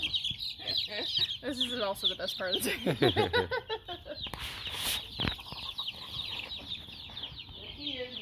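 Chickens on a farm being caught and handled for the night, with close, busy clucking and squawks in bursts, then a rustling thump, while people talk nearby.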